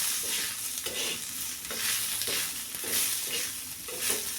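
Onions frying in oil for black-masala chicken, stirred in a pan: a steady close sizzle with rhythmic scraping strokes of the spoon repeating about once a second.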